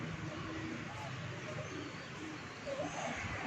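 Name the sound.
pigeons cooing on roof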